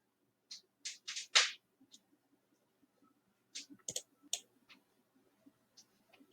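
Sharp computer mouse clicks in quick bursts, a cluster of four near the start and another group midway, then sparse single clicks, close and crisp in a quiet room.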